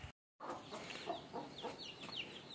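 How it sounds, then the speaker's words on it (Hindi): A hen with small chicks at a village home clucks repeatedly in short, rhythmic bursts, close by and fairly faint, with a brief dropout near the start. "हमारे घर यहाँ मुर्गी है, उसके छोटे छोटे से बच्चे हैं।"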